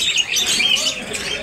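A pet budgerigar chirps in quick high twittering bursts, close and fairly loud, with faint background murmur.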